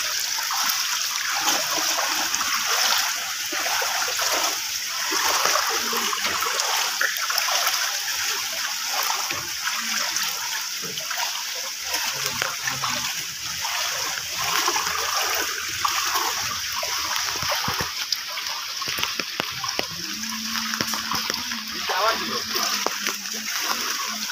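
Floodwater in the Ramnagar area of Sreemangal, Sylhet splashes and sloshes steadily nearby, a constant watery rush under voices talking.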